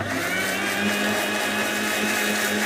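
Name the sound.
blender mixing homemade mayonnaise with sunflower oil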